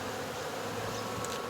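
Honeybees buzz in front of a busy hive, a dense, steady, low hum from many wings at close range with no voices.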